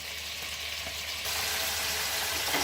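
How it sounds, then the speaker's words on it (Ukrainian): Meat for chanakhi stew sizzling and frying in a pan over fairly high gas, a steady crackling hiss that grows slightly louder partway through, with no talking. "М'яско смажимо трошки на більшому газі, щоб воно навіть де-не-де підрум'янилося"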